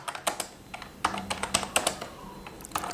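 Someone types on a computer keyboard in quick, irregular clicks and short bursts, close and fairly quiet, with no talk.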